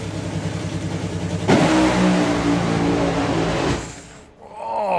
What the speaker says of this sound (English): Car sounding good and strong as the final crew member backs away.